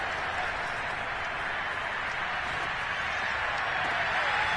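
Seattle stadium crowd at a Seahawks football game roars as a dense, steady wall of noise, loud and continuous, with faint speech under it.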